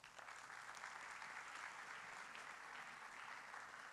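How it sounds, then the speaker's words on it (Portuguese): Steady, dense audience applause at an agricultural event presentation, continuous clapping from a crowd throughout, fairly distant and even in level. "Uma salva de palmas."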